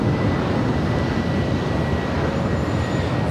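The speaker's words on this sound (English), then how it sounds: "Boston Red Sox livery with JetBlue Airways now departing to Charleston." A JetBlue airliner in Boston Red Sox livery departs Los Angeles airport, a loud, continuous roar of jet engines with a faint high whine running steadily throughout, no voices.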